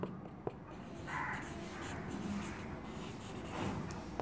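Writing on a board during a maths lesson makes a faint, continuous scratching of strokes with a couple of small taps, fairly quiet and with no voices.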